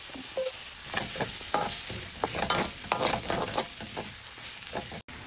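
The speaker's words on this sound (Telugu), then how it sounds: "ఇప్పుడు ఆనియన్స్ ఫాస్ట్గా ఫ్రై అవ్వడం కోసం కొంచెం సాల్ట్ వేసుకుందాం." Onions fry in hot oil with cumin seeds and a pinch of salt, giving a steady close sizzle broken by repeated scraping stir strokes, with no one speaking.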